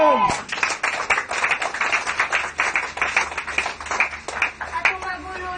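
A church congregation clapping in steady rhythm during a Filipino worship service, sharp, evenly spaced claps close and fairly loud, with no talk over them.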